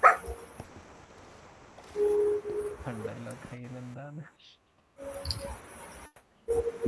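A video game dog barks and whimpers in short bursts of yelps and whines, separated by pauses and near silence, with no clear speech over it.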